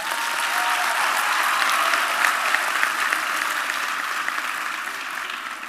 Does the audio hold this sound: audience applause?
yes